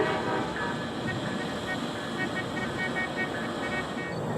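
CSX freight train Y295 pulls out of a rail yard on the Tampa District, giving a steady, broad rumble of rolling cars and engine noise that holds evenly throughout without clear horn blasts.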